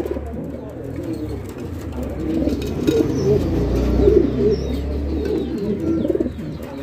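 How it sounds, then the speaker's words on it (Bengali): An imported pigeon pair, an American-bred Dubli pair, coos with steady low throaty rolls close by, layered with more cooing from birds in the background. "ইম্পোর্টেড কবুতর, ডাবলি ব্র্যান্ডের কবুতর, একদম সরাসরি আমেরিকান কবুতর"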